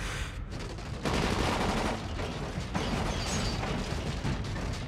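Gunfire in the video game Dying Light, heavy sustained automatic bursts that roar loud and close for several seconds with barely a pause.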